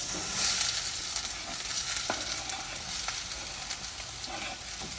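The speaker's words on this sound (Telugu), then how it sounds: "ఇప్పుడు ఇందులో మనం ముందుగా కొత్త పెట్టుకుని ఉల్లిపాయలు వేసుకుందాం" Onions frying in peanut oil in a pan for a mutton drumstick curry give a steady, dense sizzle, with a few light stirring clicks and no talking.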